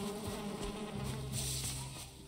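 Bee hive in the video game Valheim, giving off a steady insect buzz that holds for a couple of seconds alongside faint game ambience, with no voices.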